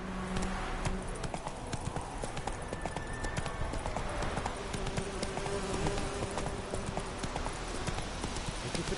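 Roach the horse gallops steadily through the Witcher 3 game world, hooves clip-clopping in a fast, continuous rhythm close by, with a faint buzz of insects in the background.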